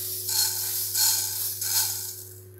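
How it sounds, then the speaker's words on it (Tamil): Mustard seeds roast in a pan for a kuzhambu chilli powder, giving a steady close sizzle that swells into three crackling, spluttering bursts, with no talking. "கடுகு பாருங்க இந்த மாதிரி பொரியற சவுண்ட், வெடிக்கிற மாதிரி சவுண்ட் வரும்."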